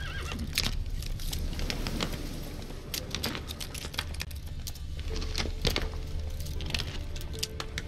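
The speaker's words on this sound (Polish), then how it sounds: "Wygląda na to, że koń zaczął kuleć." A horse in The Witcher 3 whinnies amid game sounds, with clip-clop and sharp clicks over a steady dense background, loud and close.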